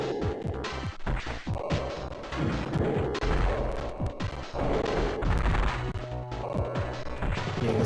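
Super missiles pound a boss's outer casing in a Metroid game, a dense barrage of heavy crashing impacts and booming blasts that keeps up continuously at close range with no one talking.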